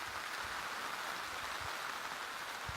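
Steady rain falling outside on a garden, a constant soft hiss with scattered low patters of drops hitting surfaces, even and unbroken throughout.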